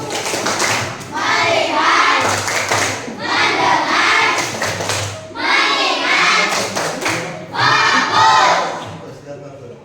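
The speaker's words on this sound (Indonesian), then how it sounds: "Tepuk fokus." Primary school students in a classroom perform a focus clap routine, four loud bursts of rhythmic group clapping mixed with children's chanting voices, separated by short pauses.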